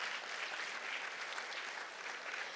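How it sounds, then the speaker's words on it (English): Sustained audience applause at a Christmas dinner and awards evening, a dense, even wash of many hands clapping steadily throughout, fairly distant and with no voices rising above it. "Give them all a round of applause."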